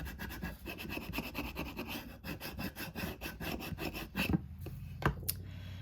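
A scraper tool rubs firmly back and forth over vinyl letters applied to a plate, making close, raspy scraping strokes in an uneven rhythm that ends in a few sharper scuffs, with no talk.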